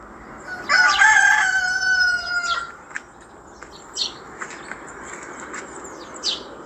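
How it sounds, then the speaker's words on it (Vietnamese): A rooster in a backyard chicken coop crows once loudly and close, a long drawn-out call, followed by a few softer chirps and clucks over a quiet outdoor background. "Nhà bạn Huyền còn có một cái chuồng gà."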